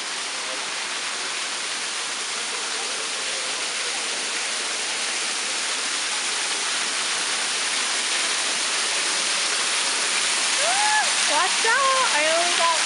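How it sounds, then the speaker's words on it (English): A waterfall inside a Tokyo greenhouse gives a constant, broad hiss of rushing water close by, and voices join over it toward the end. "I'm loving that waterfall."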